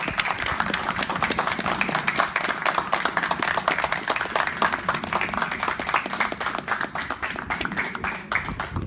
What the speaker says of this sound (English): I want to do a round of applause for the wonderful mentors that we have in the class